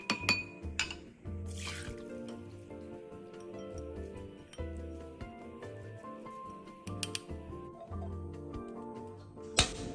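A 150 g pack of sweet preserved radish rinsed in clean water in a kitchen, with splashing and trickling plus glassy clinks and knocks of a bowl, close and moderately loud, over soft background music.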